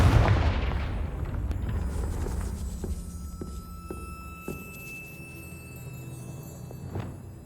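The Confringo blasting spell goes off in Hogwarts Legacy: a loud booming burst that decays over a couple of seconds, followed by scattered sharp crackles and clicks fading out, without any talk.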